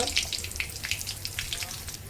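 Curry leaves, asafoetida and cumin crackle and sizzle loudly in hot oil, a dense continuous spitting with sharp pops throughout.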